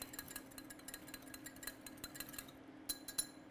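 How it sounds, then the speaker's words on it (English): A whisk clinks quickly and repeatedly against a bowl while stirring a sauce for pork fried rice. The taps are light and close, in an irregular rhythm, with no voices. "I'm gonna whisk it"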